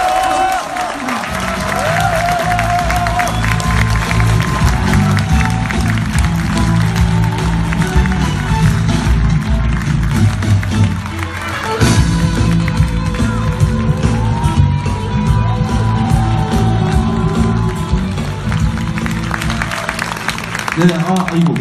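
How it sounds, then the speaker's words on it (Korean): A large indoor crowd at a Daejeon public lecture cheers, whoops and applauds steadily as Seongnam mayor Lee Jae-myung is welcomed to the stage, a loud continuous roar of clapping and shouts that swells again near the middle. "뜨거운 함성과 박수로"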